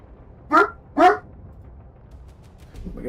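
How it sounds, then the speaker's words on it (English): A dog barks twice in quick succession indoors in a streamer's room, sharp and close, followed by quiet with faint rustling. "Sorry about the dog, guys."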